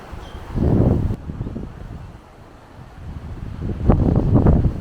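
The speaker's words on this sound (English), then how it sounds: "Whoa, that's a good gust." Strong wind gusts buffet the microphone at a caravan campsite at Wilsons Promontory in loud roaring bursts, one early and a longer surge near the end, with calmer blowing between.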